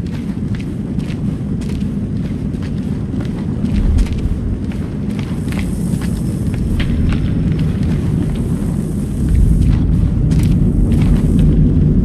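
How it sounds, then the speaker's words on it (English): Continuous low booming and crackling of fireworks going off in quick succession in the video game House of Ashes, a dense rumbling barrage that grows louder toward the end. "that's a hell of a lot of fireworks"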